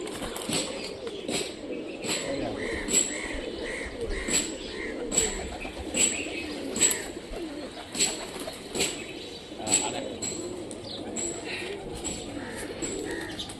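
Rajshahi giribaz pigeons give soft, repeated low coos with occasional wing flaps, steady and fairly close, with faint voices in the background.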